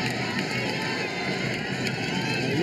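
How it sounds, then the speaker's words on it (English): A home crowd at a UAAP junior high school basketball game keeps up a steady, dense roar of cheering and chatter filling the gym, with no single voice standing out. "The UP crowd still cheering on their boys."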